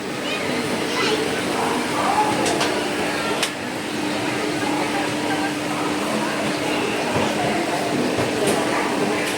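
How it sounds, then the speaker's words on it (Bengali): Steady rumbling noise of the 12245 Duronto Express departing Howrah station, with a constant low hum, broad and unbroken throughout, and a busy crowd murmuring in the background. "এই যে ট্রেন ছেড়ে দিল ট্রেন ছেড়ে দিল"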